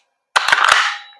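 A WE M4 CQB airsoft gas blowback rifle dry-fires without BBs, giving one sharp, loud burst of rapid cracks and a hissing gas rush that fades over about a second, close up with no voices.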